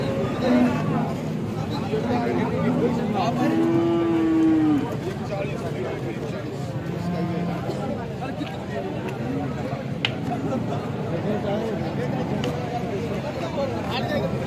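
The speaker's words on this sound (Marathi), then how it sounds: "आपण पाहू शकता ही शेतकरी बांधवांची गाय आहे." A cow lows briefly at a busy cattle market in Alephata, where farmers' cows, including HF cows, are sold, set against steady crowd babble and nearby voices talking.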